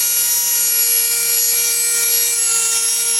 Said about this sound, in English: now I'm going to cut through this collar right underneath the porcelain part